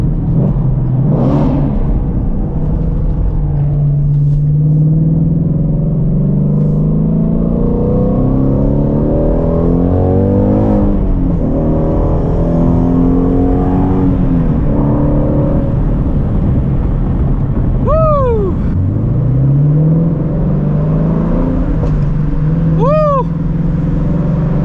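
A 2016 Shelby GT350 engine heard from inside the car, loud and continuous, rising and falling through rev sweeps and gear changes, with sharp upward revs near the end.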